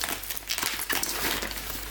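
A battered, crushed parcel of Blu-ray discs from Momox is opened, giving steady crinkling and crumpling of packaging material throughout, close and fairly loud, with no speech.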